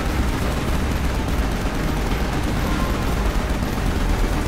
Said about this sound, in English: Use the machine gun to take down Immortalis.